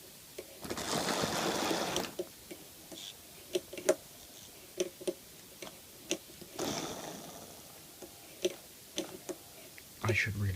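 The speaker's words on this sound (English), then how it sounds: "considering the weight of the lead body that this poor little XO4 motor has to try and move" A small XO4 motor straining to drag the heavy lead body of a model locomotive produces a steady ticking and clicking of gears with intermittent whirring bursts, and someone speaks over it.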